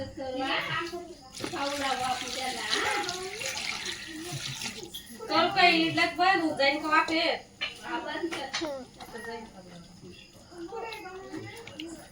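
Running water splashes steadily as raw chicken is rinsed in a basin, with adults and someone talking nearby.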